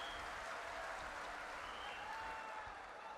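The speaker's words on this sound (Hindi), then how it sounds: "दादा को ताली बजाओ" A crowd at a religious gathering claps in a faint, distant, continuous wash of applause.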